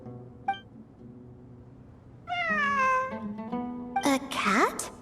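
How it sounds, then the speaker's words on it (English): A cat meows in a video game, with several clear, drawn-out meows rising and falling in pitch over a faint ambient background, the last ones louder and overlapping other game sounds. "It really is a cat."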